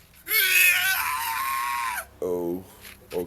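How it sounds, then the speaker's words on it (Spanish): A cartoon character from Happy Tree Friends lets out a long shrill scream, followed by a shorter lower yelp and a brief cry, loud and close with nothing else behind it. "Este grito pareció de Flip"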